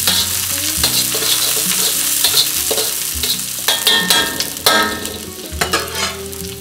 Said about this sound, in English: Let the shallots just fry a little bit.